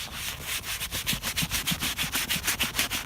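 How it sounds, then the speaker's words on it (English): A brush scrubbing deep into the creases of a dirty leather car seat, close rhythmic back-and-forth rubbing strokes, steady and fairly loud, with no voices. "you also really need to scrub, pretty deep to make sure this, the creases are getting cleaned properly"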